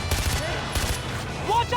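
Gunfire in the video game Far Cry 4 comes as a few quick bursts of shots over a steady game background, loud and close.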